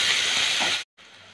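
A steady loud sizzle and hiss of chopped onion frying in hot oil cuts out abruptly, then resumes more quietly.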